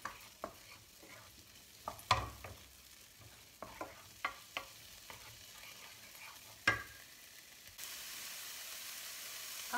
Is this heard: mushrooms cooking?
yes